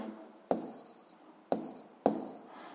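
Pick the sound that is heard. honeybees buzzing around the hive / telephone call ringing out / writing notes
writing notes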